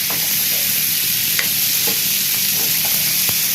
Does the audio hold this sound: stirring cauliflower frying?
yes